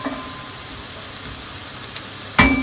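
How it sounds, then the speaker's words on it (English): Sliced onion frying in a warm pan for a syn-free tikka masala, giving a steady soft sizzle throughout, with a sharper louder crackle near the end. "So I'm going to put our onions in this one."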